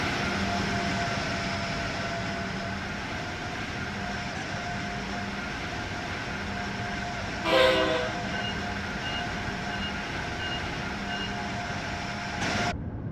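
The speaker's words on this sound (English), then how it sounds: "It's, as Rob was saying, it's based on the TGV." A TGV-based train in the Train Sim World 6 video game, its steady rolling hum and rail noise running throughout, with a short horn blast in the middle and a brief second sound near the end.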